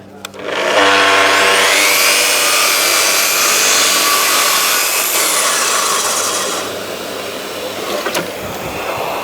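A Festool HK 85 carpentry circular saw spins up to a loud, close whine and cuts through timber, holding a steady high-pitched drone before the blade winds down.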